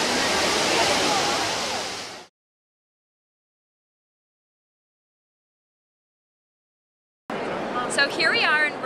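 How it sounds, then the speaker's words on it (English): Water rushes and splashes steadily at the Trevi Fountain in Rome, a loud broad wash that cuts off into silence for several seconds, then returns under a voice. "We're at the Trevi Fountain, and we're gonna throw coins in the water and make a wish."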